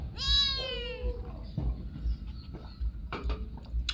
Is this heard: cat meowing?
yes